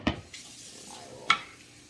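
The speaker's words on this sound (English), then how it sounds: "I'm gonna stir it all together here" Macaroni and cheese being stirred inside a microwave pressure cooker: two short utensil clinks against the pot, one near the start and one later, with faint scraping between, close and quiet.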